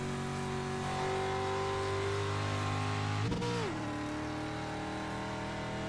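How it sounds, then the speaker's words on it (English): A street stock car engine in the iRacing PC racing game holds a steady, loud harmonic drone, then its pitch swoops sharply around a gear change or lift before settling into a lower, continuous hum, with no talking. "The original street stock car."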